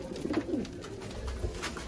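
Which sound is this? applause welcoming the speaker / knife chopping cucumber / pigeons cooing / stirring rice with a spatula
pigeons cooing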